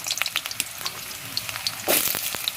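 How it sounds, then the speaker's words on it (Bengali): Potatoes frying in hot oil in a wok over a fire stove, a steady close crackling sizzle with scattered pops and a louder surge partway through, no voices. "এদিকে কড়ার তেলটাও গরম হয়ে গেছে, আর এই আলুগুলো দিয়ে দিচ্ছি।"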